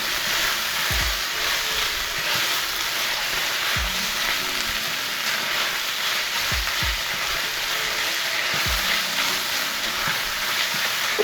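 Saltfish browning in a frying pan, giving a steady, close sizzle and crackle that runs the whole time with no talk, broken by a few soft low knocks from the pan.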